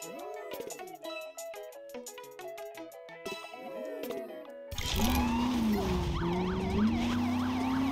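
Police car sirens in the video game Lego Racers 2 wail in rising and falling sweeps over engine noise in the second half, after a stretch of plinky game music and effects.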